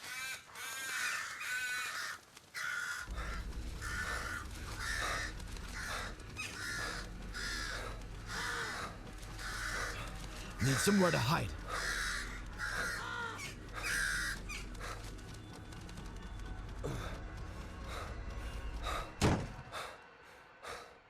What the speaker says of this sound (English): Oh no, crows.